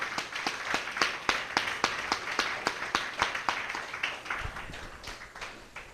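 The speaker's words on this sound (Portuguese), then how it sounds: "Vamos mais uma vez dar uma salva de palmas para ele?" A church congregation gives a round of applause during a sermon, many hands clapping in a fairly steady, rhythmic pattern, moderately quiet and slowly fading toward the end.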